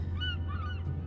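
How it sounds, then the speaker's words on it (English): Birds squawk and honk in The Banner Saga, several goose-like calls rising over a steady low game hum, fairly close and alone with no talk. "Shh, birds."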